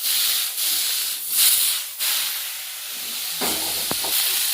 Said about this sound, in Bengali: এই দেখো ডিম্মা আমাদের জন্য শাক রান্না করছে